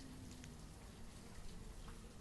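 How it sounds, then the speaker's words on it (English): Steady soft patter of rain in the city-building video game Banished, a faint continuous hiss with scattered drop ticks and no talking. "I hate this rain."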